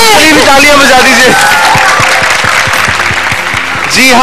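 A studio audience on a Ramadan TV show applauds loudly under an excited host's voice and music, and the clapping continues steadily at close range while the talk goes on over it.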